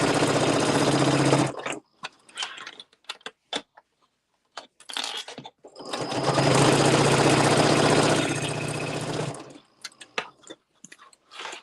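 A sewing machine stitches a pinned and clipped Luxe Cuddle Fair Isle wrap, running in two loud sustained bursts, a short one at the start and a longer one midway, with quiet handling noises in between.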